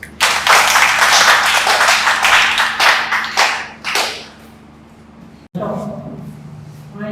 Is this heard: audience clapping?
yes